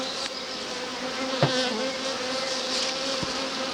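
Dense, continuous buzzing of many honeybees in an opened beehive during an inspection, close and loud, with occasional individual bees droning past and no talking.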